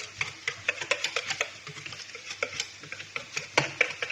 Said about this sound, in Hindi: ये देखिए कितने अच्छे से फ्राई हो रहे हैं हमारे आलू भी